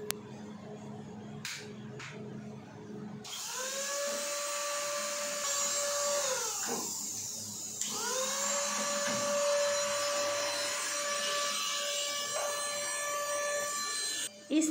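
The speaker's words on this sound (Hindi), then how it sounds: "इस छोटे से मिनी वैक्यूम क्लीनर में एक साइड से हवा बाहर आती है फोर्स से और एक साइड से अंदर खींची जाती है।" A small handheld mini vacuum cleaner whirs steadily with a high motor whine, close and loud, running for most of the stretch with a brief dip in pitch midway as it is moved during household cleaning.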